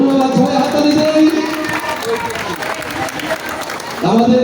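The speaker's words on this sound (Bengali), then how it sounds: "সবাই হাততালি দেই" Audience applause at a school football tournament final ceremony in Nawabpur, Dhaka, steady clapping spread through a crowd, loud and continuous, with a voice speaking briefly at the start and again near the end.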